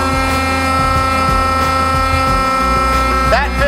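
A hydraulic unit's motor runs with adaptive mode switched off, producing a loud, steady tonal hum with strong harmonics and a pitch shift near the end.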